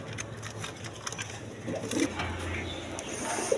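Pigeons of the orange chila color variety coo softly in a loft, with low murmuring calls and faint rustling spread across a steady background.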